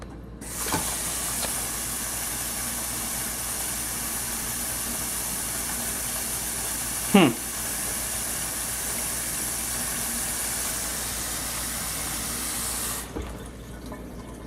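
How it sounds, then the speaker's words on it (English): Water drains steadily through an Eshopps PF 300 aquarium overflow box siphon, making a continuous rushing hiss for about twelve seconds, with one brief gurgling surge midway, then it stops abruptly. "The water's draining. And the tube kept its siphon in there."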